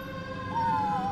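Fire truck siren leading a parade for a returning world champion, a wailing tone rising and falling slightly over distant street rumble, moderately loud and heard alone.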